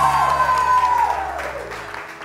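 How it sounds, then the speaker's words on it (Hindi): A studio audience on a morning TV show bursts into sustained applause and cheering, a dense wash of claps that gradually fades out. "बहुत सारी तालियां और बहुत सारा शोर अपने लिए कर दीजिए आप लोग।"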